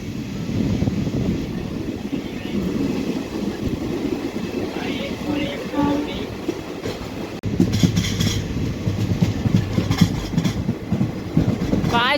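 The Tapovan Express running on the tracks in rain and fog past Kasara, a loud, steady rolling rumble with rhythmic wheel clatter that intensifies partway through.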